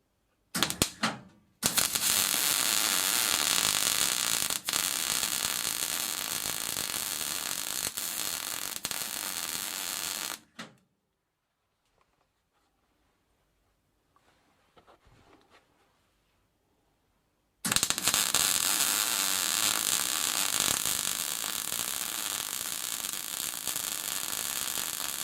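Amateur arc welding on a lawn mower repair crackles and hisses loudly in two long, steady bursts, separated by several seconds of near silence.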